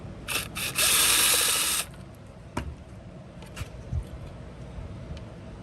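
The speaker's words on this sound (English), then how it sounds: "To do that, you just take out these 4 screws that hold it in place." A Poulan Pro blower's primer is being removed. A power driver buzzes twice in short bursts to back out the four retaining screws, followed by quieter clicks and handling taps up close.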